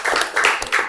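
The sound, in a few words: audience clapping hands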